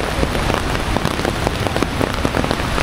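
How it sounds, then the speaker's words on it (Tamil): Heavy rain pours down at Athirapally waterfall, a dense, steady patter of drops striking nearby surfaces, loud and continuous with no voices. "மழை பிடித்து விட்டது"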